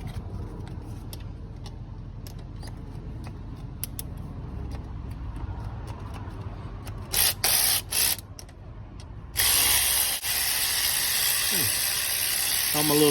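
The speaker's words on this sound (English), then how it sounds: "Amazon cordless ratchet" Cordless ratchet removing parts on a Gen 3 5.3 LS engine, with several short whirring bursts followed by a longer sustained run near the end, amid clicks and creaks.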